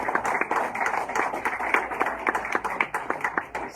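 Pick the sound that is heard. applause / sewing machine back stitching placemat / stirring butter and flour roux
applause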